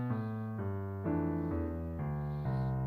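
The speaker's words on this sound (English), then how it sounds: "If you're playing a bass line without swinging, it sounds like this." Bass line played straight without swing: a sequence of even, sustained low notes, about two per second, each note held evenly and clearly audible on its own.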